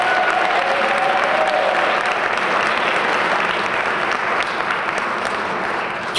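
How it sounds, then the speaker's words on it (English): An audience at the 2019 Jersey City Women of Action Awards Ceremony claps for an honoree. The dense, loud applause holds evenly throughout without letting up. "Let's give her a hand clap."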